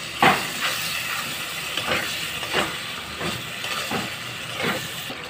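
Chopped tomatoes stir-fried in a pan for a Bengali prawn and pointed gourd dish, giving a steady loud sizzling hiss with soft scraping strokes of a spatula at a slow, regular pace, with no talking.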